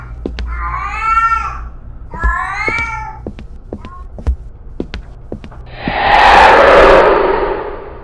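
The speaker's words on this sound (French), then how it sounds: "J'ai l'impression que c'est un chat, hein, si je ne me trompe pas." Two drawn-out cat meows from a video game set in a nuclear plant, each wavering call standing clear and alone, followed by a loud, breathy rushing burst near the end.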